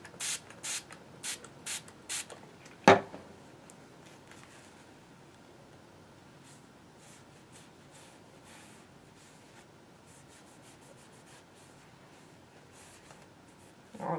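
Several short bursts of Flitz Tactical Matte Finish Cleaner sprayed onto a knife, five quick hissing puffs in a row, then one louder spritz, followed by a quiet room with faint handling noises.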